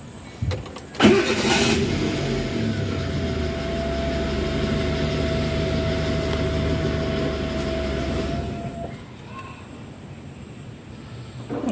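Chevrolet Beat with low pickup and a suspected shorting fault in the IAC valve, its engine starting with a bump and then running in a steady idle-to-rev drone for several seconds before cutting off abruptly. No one speaks.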